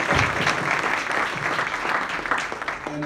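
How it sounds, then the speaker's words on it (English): Audience at a faith breakfast gathering applauds, a dense steady wash of clapping from the crowd that holds loud through the whole stretch and thins only slightly near the end. "Give yourself a big round of applause"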